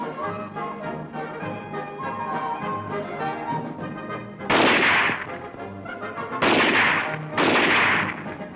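Rifle shots ring out at a US Army ski and shooting meet in 1960s Europe, three loud booming reports with echoing tails that rise over orchestral music and a narrator's voice.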